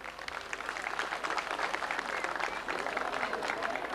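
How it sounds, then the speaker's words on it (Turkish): Applause from an audience at an outdoor cultural arts festival in a Turkish town, steady dense clapping lasting throughout, loud and continuous with crowd noise mixed in. "bir alkış alabilir miyiz?"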